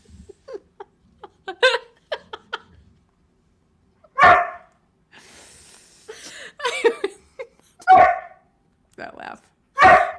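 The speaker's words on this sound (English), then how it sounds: "See, even the foster dog is going crazy." An excited foster dog barks in sharp, scattered yaps and louder single barks across the stretch, fairly close and mixed with laughter and people talking.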